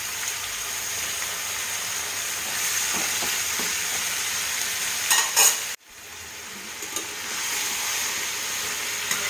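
Prawns frying with onion and green chillies in a pan, a steady close sizzle and hiss with a brief pause as the pieces are turned, then the frying resumes.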